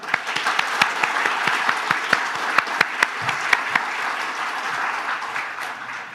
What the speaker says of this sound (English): join me in giving them a big round of applause